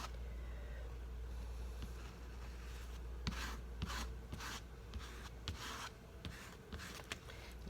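A bowl scraper drags dark purple cold wax across paper in soft, rhythmic rasping strokes, close and fairly quiet, with no talking.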